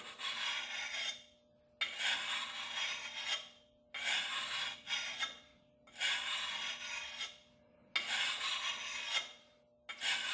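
A file rasps along the edge of a camp axe to sharpen it, in long scraping strokes that repeat about every two seconds with brief silent gaps between them, close up and steady, with no talking.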